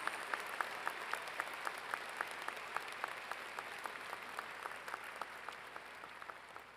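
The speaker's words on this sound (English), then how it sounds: "Our Walter Johnson staff, please give a round of applause." Graduation audience applauding in a large hall, a steady wash of clapping from many hands with a few sharper individual claps standing out throughout.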